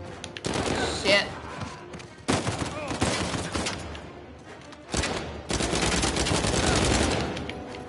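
Assault rifle fire in Uncharted 4: loud, close bursts of rapid automatic gunfire in several sustained volleys separated by brief pauses, with a voice speaking between them.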